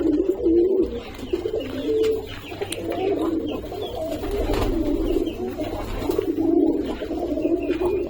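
Pigeons in a sixth-floor rooftop pigeon house at night coo steadily in overlapping low, throaty calls, close and continuous, with soft rustling and no talk.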